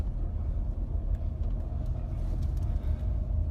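A car drives through thick wildfire smoke during an evacuation near Howe Ridge in Glacier National Park, its engine and road noise a steady, loud rumble throughout with no voices.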